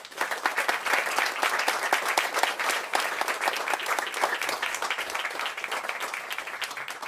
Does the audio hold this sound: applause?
yes